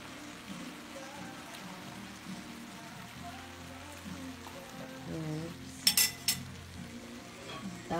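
Eggplant and mixed vegetables stirred in a pan for a Filipino sautéed vegetable dish: faint, soft scraping and shuffling under a low hum, with a few sharper utensil clinks near the end.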